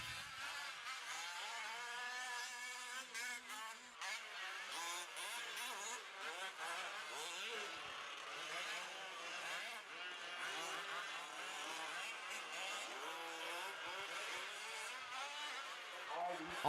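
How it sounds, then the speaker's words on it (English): Several 1/5 scale RC race cars at an outdoor RC raceway, their small engines buzzing and whining continuously at a distance, faint and steady throughout, with a commentator talking over them. "All these cars starting the race"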